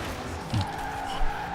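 A car drifts in Forza Horizon 4 in winter, with a short tire squeal and a low thump as it crashes through a barrier, fairly faint and over in under two seconds.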